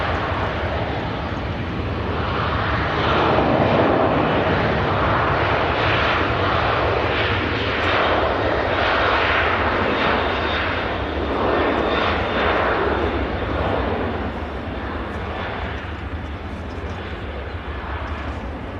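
A Ryanair airliner at Manchester Airport, preparing for a roughly four-hour flight to the Canaries, spools up its engines in a loud, steady, broadband roar that swells and holds for the whole stretch.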